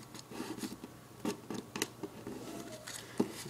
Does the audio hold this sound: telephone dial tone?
no